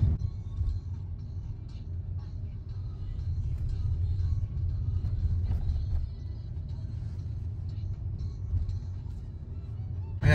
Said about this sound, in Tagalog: sobrang traffic na dito